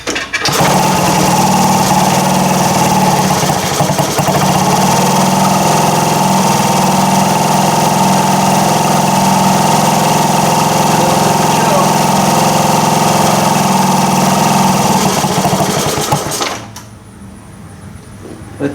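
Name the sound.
1978 Indian moped engine idling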